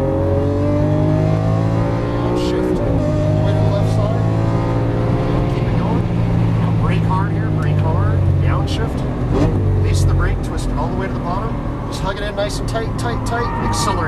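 A Lamborghini Aventador LP700 accelerates at full throttle on a racetrack, its engine note rising through gears in loud, continuous sweeps with shift breaks, while an instructor talks over it throughout.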